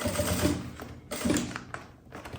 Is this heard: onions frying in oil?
no